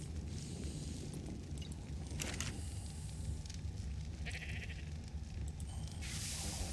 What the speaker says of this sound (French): alors là il y a les moutons.